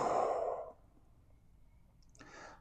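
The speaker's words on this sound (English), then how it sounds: "I exhale" A long, audible exhale during a tai chi breathing exercise, a soft breathy rush that fades after about half a second, followed by quiet and a faint click with a short breath near the end.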